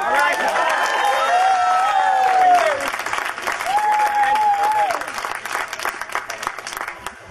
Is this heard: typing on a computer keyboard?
no